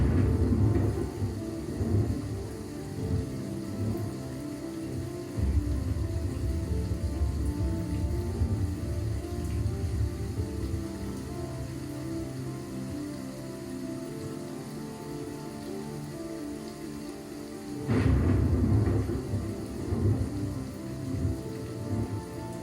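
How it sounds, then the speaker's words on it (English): Steady heavy rain pours with rolling thunder rumbling through, a continuous dense wash of drops, with a louder thunder swell near the end; any campfire crackle is buried under the storm. "here is a campfire during a thunderstorm"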